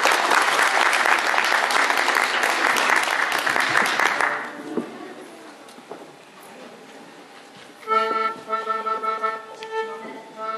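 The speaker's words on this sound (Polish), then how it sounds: "Brawa dla nich." An audience applauds loudly for a 50-voice parish school children's choir at a Christmas carol festival, a dense burst of clapping for about four seconds that quickly dies away, followed by quieter hall sounds and faint music.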